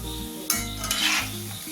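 Vegetable chilli balls fry in hot oil, a steady close sizzle with a sharper crackle and stirring clatter midway, no voices.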